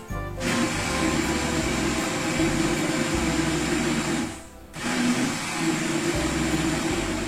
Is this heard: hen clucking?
no